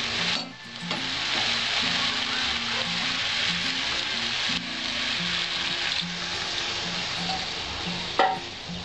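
Labra, a Bengali mixed-vegetable dish, sizzles loudly in a pan as water is added, with a steady hiss of frying, repeated stirring scrapes and a brief clatter near the end, and no speech.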